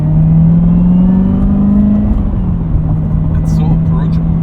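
A manual 2019 Chevrolet Corvette Z06 droning loudly and steadily from the cabin, revving slightly and then settling, with people talking over it.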